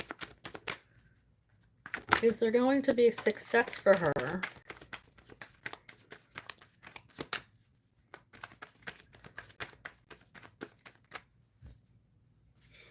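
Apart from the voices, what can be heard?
tarot cards being shuffled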